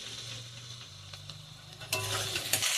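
Tomato paste fries in a spice mixture of ginger and garlic paste, giving a steady close sizzle with a low hum, then a few scraping stir strokes and clinks near the end, with no voices.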